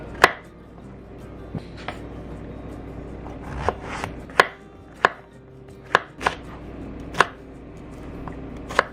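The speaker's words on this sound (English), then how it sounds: "I'm just going to cut everything into the same size pieces" Mushrooms and bell pepper being chopped with a knife on a cutting board, a steady series of sharp, close taps spaced about every half second to second, with soft rustling between strokes and no talk.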